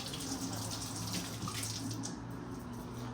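Water runs steadily from a kitchen tap while a raw steak is rinsed under it, a continuous faint splashing stream heard alone throughout.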